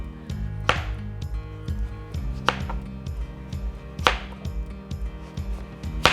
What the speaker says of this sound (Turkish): Patatesimizi, patatesi halka halka doğruyorum ince.